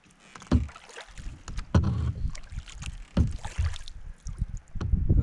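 Double-bladed paddle strokes driving an Old Town canoe along a calm loch shore, with a series of close, irregular splashes and water swishes, some light wind noise across the microphone, and no talking.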